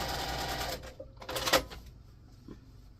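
A sewing machine stitches a quarter-inch seam on a table runner in one short, close run that stops partway, followed by a few light handling clicks.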